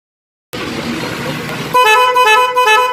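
An electric melody air horn sounds its first tune, a loud tonal blast that follows a short rush of broadband noise after brief silence, with bright sustained pitched notes held close up.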